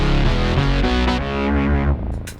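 BOSS SY-200 guitar synthesizer played through a Quad Cortex, a brief loud run of thick, processed synth-guitar notes with effects colouring, ending in a short decay with a faint click at the close.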